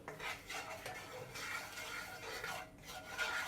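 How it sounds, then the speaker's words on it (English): Chili flakes and light soy sauce being stirred in a pan over medium heat, a steady scraping and rubbing of utensil against metal running continuously at close range with faint sizzle beneath. "give this a quick stir"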